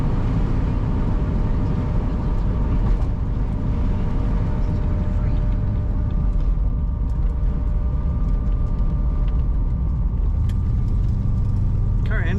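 A 1970 Chevrolet Corvette drives along with a steady, loud engine drone and road rumble, heard from inside or close to the car throughout, with a faint tonal whine running underneath.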